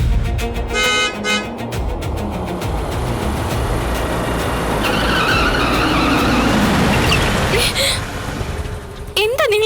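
A car horn blares and tires skid as a car nearly hits someone, loud and close, over a steady roar of engine and traffic.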